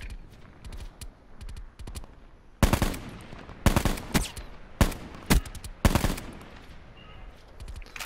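Close, loud automatic gunfire from Call of Duty: Black Ops 4 Blackout mode comes in several hard bursts after lighter scattered shots, with short gaps between volleys.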